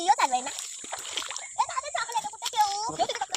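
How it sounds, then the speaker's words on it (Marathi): Water splashes and sloshes as a man wades in, with choppy bursts of splashing under excited, overlapping talk. "काका पाण्यात उतरलं ते बघा"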